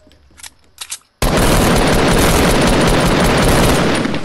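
Rapid burst-rifle gunfire in the Fortnite battle royale video game erupts after a second of quiet and stays loud and continuous, a dense wall of shots for about three seconds.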